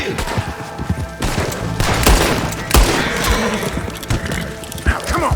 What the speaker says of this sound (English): They're like shooting at me.